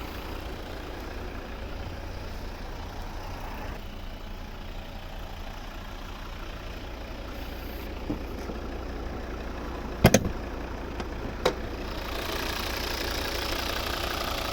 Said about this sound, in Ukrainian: Ось наш знаменитий п'ятициліндровий двигун робота двигуна.